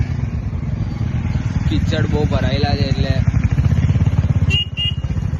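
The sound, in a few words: new motorcycle riding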